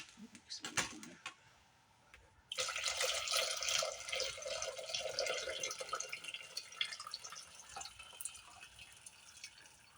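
Water is poured from an 8-cup pitcher into a pan for broccoli potato cheese soup, beginning with a few faint drips and then settling into a steady, close splashing stream that lasts to the end.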